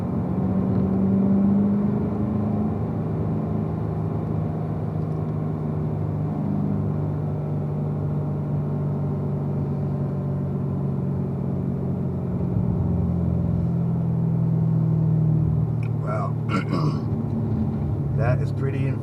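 A Corvette held in fourth gear at speed on a race track, a loud continuous engine drone and road rumble throughout, with faint voices near the end.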